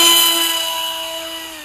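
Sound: motor of 1400 Skysurfer RC plane running

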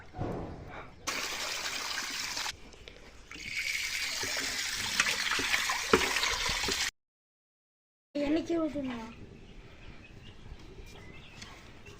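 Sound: washing a new soaked clay pot with water

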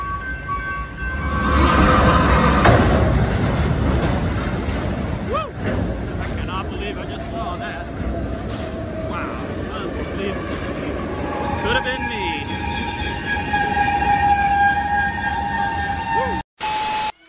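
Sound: train passing level crossing

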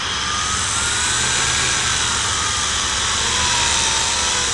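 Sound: quadrotor rear motor spinning up on bench test

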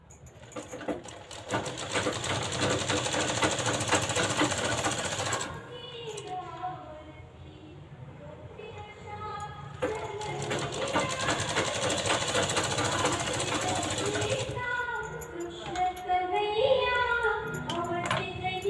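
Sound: sewing machine stitching a blouse

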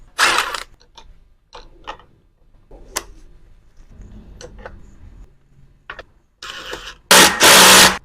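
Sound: installing the other crank arm on an electric bicycle

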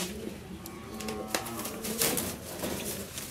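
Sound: King pigeons cooing

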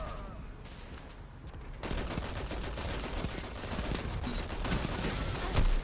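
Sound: auto rifle gunfire in video game Destiny 2

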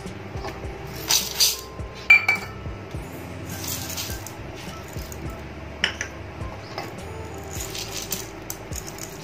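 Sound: pouring masoor and moong dal lentils into a big bowl

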